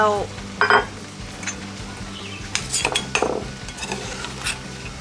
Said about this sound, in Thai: เราจะเคี่ยวพริกแกงกับหัวกะทิ